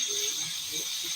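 A steady, bright sizzling hiss with soft crackles, like food frying in a pan, while a quiet voice murmurs faintly underneath.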